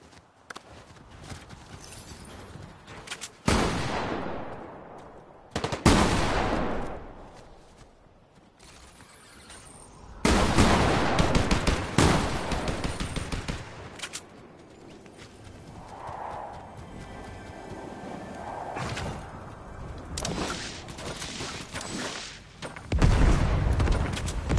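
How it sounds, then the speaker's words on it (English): Gunfire rings out in an online shooter video game as several loud bursts come in separate volleys. Clattering, hoof-like footsteps and quieter in-game noise sit between the shots. "Y'all shooting at me?"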